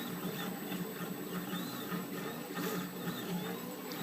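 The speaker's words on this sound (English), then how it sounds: "it's going to fill one layer of the block to get the nozzle working properly" Single-nozzle 3D printer laying down a sacrificial block layer, its stepper motors emitting quick warbling whines and squeaky tones over a constant mechanical hum, close and steady.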